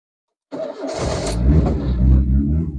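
An old air-cooled car engine starts from cold after a brief starter crank, then settles into a loud, steady, lumpy idle close by, with no talk.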